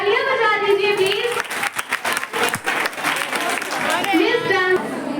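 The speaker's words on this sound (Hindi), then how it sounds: "तालियां बजा दीजिए प्लीज।" Schoolgirls applaud at an intermediate college farewell ceremony, with dense clapping that dips briefly midway and then swells again, while a voice speaks over it.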